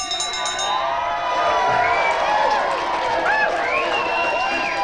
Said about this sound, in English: I don't know if you can hear me above the crowd